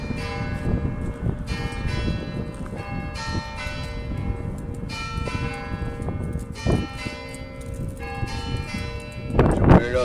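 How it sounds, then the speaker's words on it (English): Church bells ring continuously in a dense, overlapping peal at an Anglican Ash Wednesday gathering, moderately loud, with crowd noise and brief voices mixed in toward the end. "Hell's bells, that's what that is"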